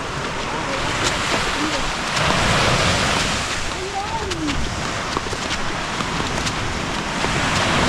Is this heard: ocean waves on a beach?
yes